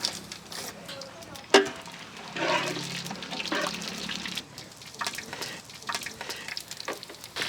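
Whole garam masala spices dropped into hot cooking oil and ghee, a sudden sharp crackle followed by a steady bubbling sizzle, close and fairly quiet, continuing throughout with no talk.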